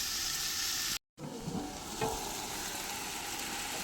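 Onions sizzle steadily in hot oil while being softened for mutton biryani, with brief stirring scrapes; a short gap of silence near the start, then continuous close frying.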